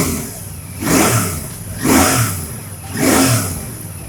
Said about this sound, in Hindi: Now let's rev it little bit.